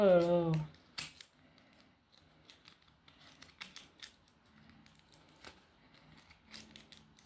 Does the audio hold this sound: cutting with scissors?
yes